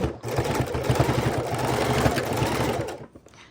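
A sewing machine runs steadily, stitching the seam of a fabric microwave potato bag, its fast rhythmic needle clatter continuous for about three seconds before it stops.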